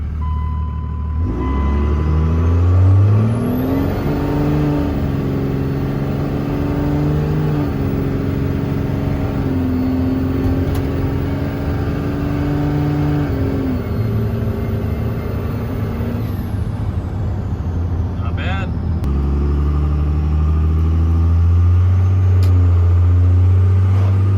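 A Cummins diesel truck pulls away loudly up close, its engine note climbing steadily, dropping at each gear change and climbing again, with a low steady drone underneath and no talking.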